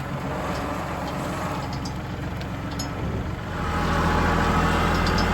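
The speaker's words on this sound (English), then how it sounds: "So let me get this tractor unloaded," Kubota L3901 compact tractor engine running steadily at a tree removal job, a continuous low rumble that grows louder and heavier partway through as the engine revs up.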